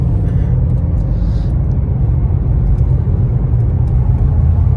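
Car in motion on a road, its manual-transmission engine and tyres making a steady low rumble and road noise, continuous and fairly loud throughout with no talking.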